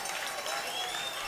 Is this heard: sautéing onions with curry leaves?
no